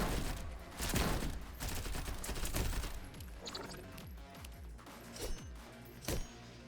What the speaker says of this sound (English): It just fires a bunch of bullets,